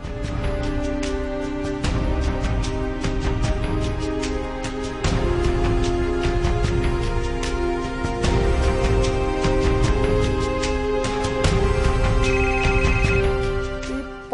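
A phone ringtone plays continuously, a loud repeating electronic melody with no talking over it.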